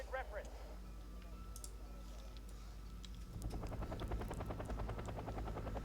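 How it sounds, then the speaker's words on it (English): A Mi-8 gunship helicopter's rotor thumps steadily in Wargame Red Dragon, growing louder and more pronounced midway, with game-like clicks and a voice talking over it. "This looks like an Mi-8 gunship with all the gun batteries on the sides."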